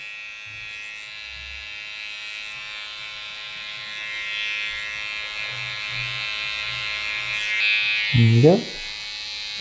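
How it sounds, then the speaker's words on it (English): Electric hair clippers buzz steadily while working clipper-over-comb to taper a medium-length men's haircut at the neckline, a continuous mid-level hum with a brief louder pass near the end and someone speaking briefly. "just almost like clip over comb, taper it out of the way, like so."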